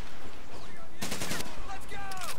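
Rapid bursts of machine gun fire in the Medal of Honor: Pacific Assault WWII video game, with a loud volley in the middle among ongoing battle noise and some ricochet-like whistles.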